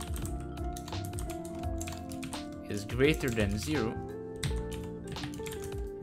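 Computer keyboard keys clack in quick runs while JavaScript code for a Discord.js bot is typed, the clicks sitting close and steady under a person talking throughout.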